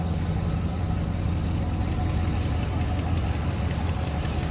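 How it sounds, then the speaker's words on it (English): A stock V8 in a 1967 Buick Skylark rumbles at a steady, low idle, even and unrevved, close by with no talk over it. "What you'd expect a stock 67 Skylark to sound like."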